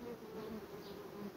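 Honeybees buzzing steadily at the hive in July, after the honey harvest, a continuous close droning hum with no voices.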